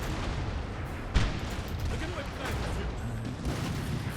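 Massed musket volleys and artillery fire from a Napoleonic-era battle in the strategy game Napoleon: Total War, a steady dense crackle of distant gunfire with one sharper boom, heard beneath a voice.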